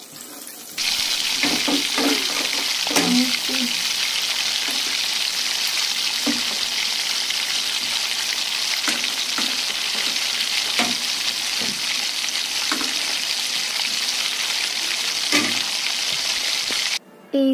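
Chicken sizzles and fries in a pan with a steady, loud crackle, punctuated by occasional clinks and stirring knocks, before cutting off at the end.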